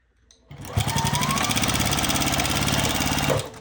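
A sewing machine runs steadily for about three seconds, stitching fabric sewn shiny side down for a small quilted project keeper cover, starting abruptly and stopping cleanly with a fast, even mechanical whir.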